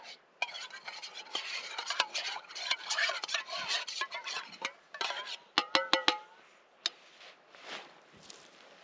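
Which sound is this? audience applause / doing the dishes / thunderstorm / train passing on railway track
doing the dishes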